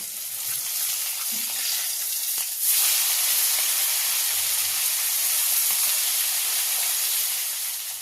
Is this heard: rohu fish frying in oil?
yes